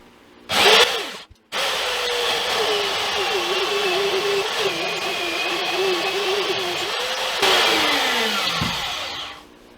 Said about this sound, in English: here's the belt sander